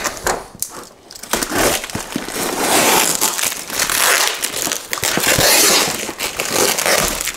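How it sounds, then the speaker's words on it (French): Packing tape being pulled and torn off a cardboard parcel holding a scale model kit, with crinkling, crackling rips and scraping in irregular bursts, loud and close, with no talking. "On va enlever déjà tout ce scotch."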